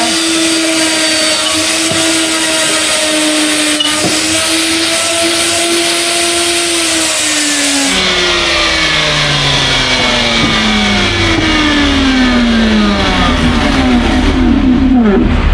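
A wood router mounted in a router table spins up and runs continuously, a loud steady whine with shifting pitch and no talk over it.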